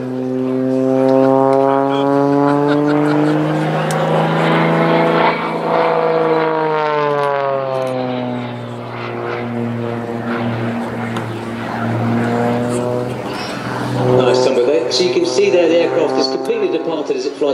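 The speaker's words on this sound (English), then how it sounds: "they all sit in the slipstream of that big propeller and that 330 horsepower engine" An Extra 330SC aerobatic plane with a 330 hp engine and big propeller drones loudly overhead at an air display at Sywell, its pitch rising and falling as it climbs and turns, with commentary spoken throughout.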